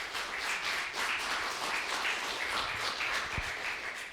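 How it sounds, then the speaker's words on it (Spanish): A church congregation applauds during a service, a steady wash of clapping heard at moderate distance that runs without a break through the whole moment. "Denle un fuerte aplauso"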